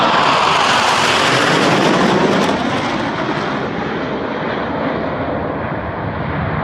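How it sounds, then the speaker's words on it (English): Motorcycles rolling in together as a group, a loud, steady roar that holds throughout and eases slightly toward the end, with no voices over it. "Any minute you'll hear the cyclists coming in."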